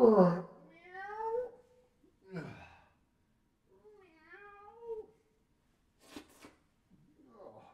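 A person's voice imitates a cat, drawing out several meows with pauses between them, close and fairly loud.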